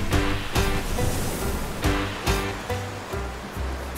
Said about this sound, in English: Small wave.